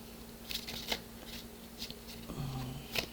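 Tarot cards are handled and flipped over on a table, making several soft, quick slaps and shuffling flicks at an irregular pace in a quiet room.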